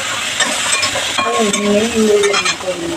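Spices frying in a pan for a Kannada home-style bassaru, a steady close sizzle with a quick stir of the pan, and a faint voice in the background.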